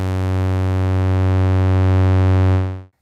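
GRP A1 analog synthesizer holding a single sustained note with its smooth, musical drive engaged, a rich buzzy tone that rings steadily for under three seconds before cutting off cleanly, played alone.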